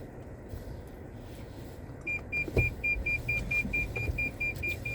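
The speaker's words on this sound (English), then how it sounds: "I seriously hate this beeper" A car's warning beeper chimes in a quick, evenly spaced series of short electronic beeps over a low engine hum inside the vehicle.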